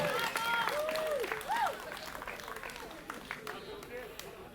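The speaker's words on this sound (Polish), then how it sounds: "Wielkie brawa!" Crowd applause and cheering at a rock band competition results announcement, clapping under excited shouting voices, loud at first then tapering off.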